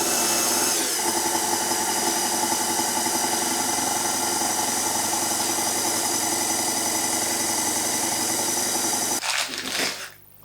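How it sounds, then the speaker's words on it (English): Motorized dough rolling machine running on its widest setting as pastry for a Scottish macaroni pie is fed through: a steady, loud mechanical whir and drone lasting several seconds, then clunking and cutting off near the end, no voices. "whack it through the machine. This is on its widest setting"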